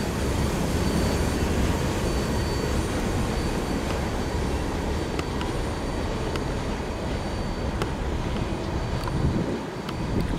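A heavy coal train rolls past at a distance in a steady, broad rumble with faint wheel and rail noise, continuous for about ten seconds with no voices.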